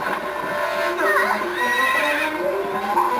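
Epona, the horse in Zelda: Twilight Princess, lets out a loud, wavering whinny that rises and falls over a few seconds, with faint hoof clip-clops and game ambience beneath.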